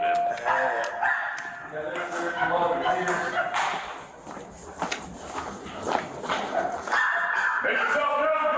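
Several caged dogs bark and yip in irregular bursts, with clanks and scuffling footsteps nearby and people talking over the din.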